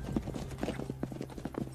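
Horse hooves clip-clop in a brisk, steady rhythm in a movie action scene, close and continuous over a low background rumble, with no clear speech.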